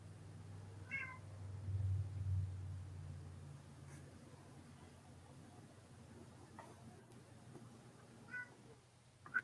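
A cat meows a few times, faint and somewhat distant, over a low steady hum in a quiet room.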